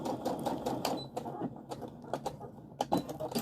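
A sewing machine stitches fabric for a casserole carrier in short, uneven bursts of quiet mechanical clatter, nearby and fairly faint.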